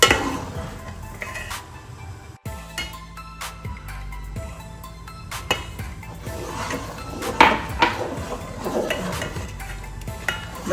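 Almonds being stirred into kheer in a pot, with bread pieces mixed through: a spoon clinks and scrapes against the metal pot in irregular bursts over a steady tonal background hum.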